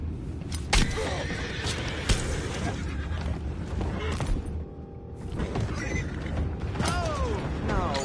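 A horse whinnies amid a busy mix of Red Dead Redemption 2 game sounds, creaks and mechanical clatter, with a few sharp hits and a faint voice in places.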